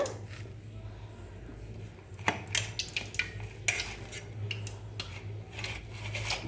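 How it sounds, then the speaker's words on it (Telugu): Spoon stirring cumin seeds into a batter for ginger vadas, heard as scattered scraping and clinking taps against a bowl, close, over a steady low kitchen hum with no speech. "చిన్న చెంచాడండి జీలకర్ర చక్కగా ఇందులో కలిపేస్తాను"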